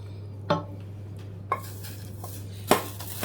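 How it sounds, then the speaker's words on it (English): Macaroni stirred in a pot of boiling water, three distinct scraping clinks of a spoon against the pot spaced about a second apart over a low steady hum. "give it a quick stir, just so it doesn't stick to the bottom"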